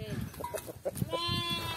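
Sheep on a small farm bleat in a few short, wavering cries, close by, mixed with a person talking nearby and light outdoor background noise.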